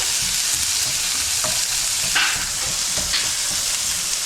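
Onions fry for a homemade pizza, crackling loudly and continuously in a hot pan while a spoon scrapes and stirs them in short strokes, close up with no speech.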